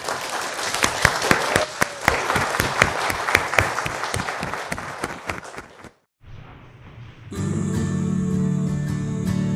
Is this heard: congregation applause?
yes